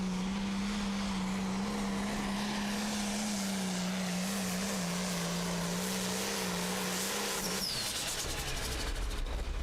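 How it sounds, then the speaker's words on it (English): A Limited Pro Stock tractor at a pulling competition roars under full load with a loud, sustained engine drone. The pitch wavers slightly, then the engine cuts off abruptly near the end. "Ken Stott and Leslie Mears covering all the action for you here with the limited Pro Stock tractors"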